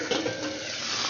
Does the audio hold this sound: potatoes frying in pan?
yes